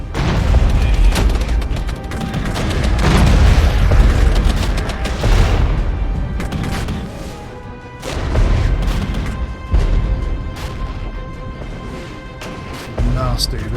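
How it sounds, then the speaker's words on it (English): An artillery barrage in the strategy game Regiments: loud, heavy booms and crashing impacts roll in repeatedly over a rumbling battlefield, with someone talking throughout. "Here comes the artillery."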